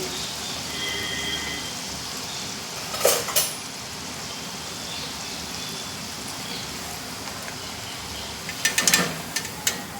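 Moong dal frying in hot oil, a steady hiss and crackle like fine rain running throughout, with a couple of brief metallic clinks of a utensil against the pan breaking through.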